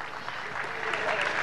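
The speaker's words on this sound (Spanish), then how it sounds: "Ese fuerte aplauso para nuestro hermano presidente Evo Morales." A crowd at a football pitch inauguration in Cochabamba applauds President Evo Morales, a brief, steady wash of clapping heard from a moderate distance.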